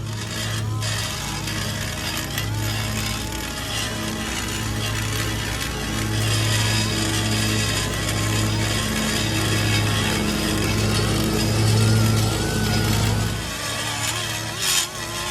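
Air grinder porting a Holley Strip Dominator intake manifold for a 351 Cleveland, a steady loud whine with pitch wavering as the tool loads and eases, running continuously for most of the stretch before cutting off near the end.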